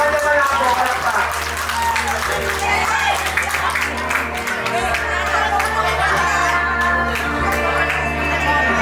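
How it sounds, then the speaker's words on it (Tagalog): At an eighteenth-birthday debut party, an audience claps steadily for the debutant's escort, a dense sustained round of applause with a few cheers, while a voice speaks over the clapping. "May we give a round of applause"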